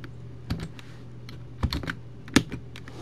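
Someone types a short command on a computer keyboard in AutoCAD, a sparse run of crisp key clicks with a few sharper strokes, close and fairly quiet, without talking.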